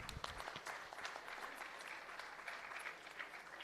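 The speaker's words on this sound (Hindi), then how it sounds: "मैं चाहूंगा कि इन बच्चों के सम्मान के लिए हम कम से कम तालियां जरूर बजाएं।" An audience claps steadily and densely at the Pankh sports award ceremony in Chhattisgarh, honouring young athletes from 33 districts. The applause holds at an even level throughout with no break, from a large crowd.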